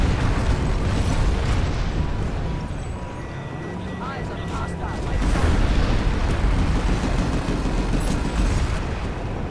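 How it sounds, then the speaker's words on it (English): Continuous rumbling bombardment in the online shooter Planetside 2, dense booming explosions and bursts forming a loud steady roar that swells midway, with voices chattering underneath. "Oh god, we're getting bombed."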